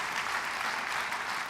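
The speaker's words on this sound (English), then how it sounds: "give a round of applause" An audience breaks into a steady round of applause, a dense wash of many hands clapping at even loudness throughout, with no voices standing out.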